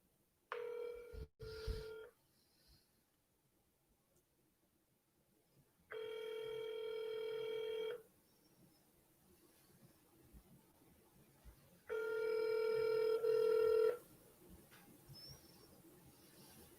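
A telephone rings back on an outgoing call with a short burst of dial tones first, then two long electronic ring tones about six seconds apart, quiet line hiss between.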